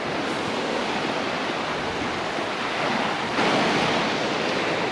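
Pacific Ocean waves wash onto Capitola beach in California near the pier, a continuous loud broadband surf roar with a swell of breaking water near the end and some wind noise.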